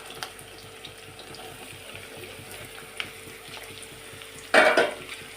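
Finely chopped bottle gourd pieces sizzle softly in a pan with oil, a faint steady frying hiss with light rhythmic scraping, then a brief louder clatter of stirring near the end.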